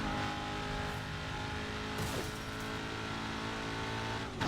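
A car engine in the racing video game Burnout Paradise revs hard and steadily at high pitch, a dense, buzzing roar that stays loud and close for the whole stretch, with no talking.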